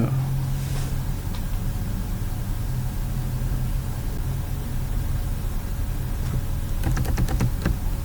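Typing on a computer keyboard: sparse soft taps early on, then a quick cluster of crisp keystrokes near the end, heard close over a low steady hum with no speech.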